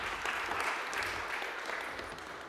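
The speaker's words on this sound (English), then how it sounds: "A round of applause." Audience applause at a startup and venture capital conference as guests are invited on stage, a steady, moderately loud wash of clapping hands lasting the whole moment without any speech over it.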